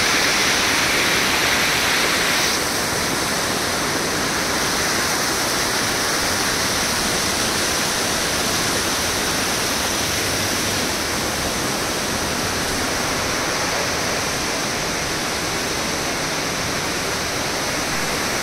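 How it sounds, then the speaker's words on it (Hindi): Rushing water at Banjhakri waterfall in Gangtok, Sikkim, a loud, continuous broadband roar that holds steady throughout with no voices. "पानी का यहाँ पर देखिए जो आवाज़ आता है, सुन सकते हैं काफ़ी अच्छा लगता है"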